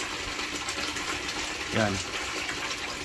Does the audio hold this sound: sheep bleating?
no